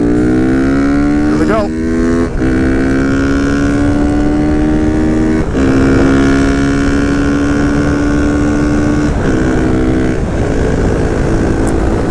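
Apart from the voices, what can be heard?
Honda Grom with CBR engine swap riding at speed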